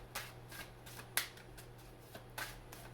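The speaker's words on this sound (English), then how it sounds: "Wasn't even finished shuffling." A deck of cards being shuffled by hand nearby, a series of crisp riffling and snapping bursts at an uneven rhythm, one louder sharp slap, over a quiet low hum.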